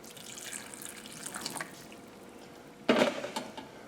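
Pasta water splashes and trickles briefly into a pan, with a louder burst of pouring near the end against a quiet kitchen background.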